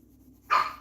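A single short dog bark or yip, loud and close, breaking a quiet room after about half a second.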